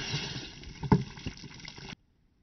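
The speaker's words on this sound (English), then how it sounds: "The rocket launched well," A homemade water bottle rocket launches, a short rushing whoosh of water spray with a sharp pop near the start, lasting about two seconds before cutting to silence.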